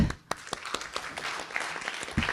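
Audience applause welcoming a guest and his wife at a young leaders' peace and security conference, a busy mix of claps with a few sharp nearby hits standing out above the crowd.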